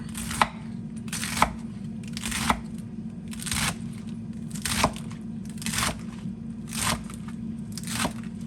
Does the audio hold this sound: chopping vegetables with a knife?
yes